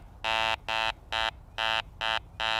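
Garrett ACE 400i metal detector sounding its iron tone for junk iron: six evenly spaced beeps, each about a quarter second long, moderately loud and close, with no talking.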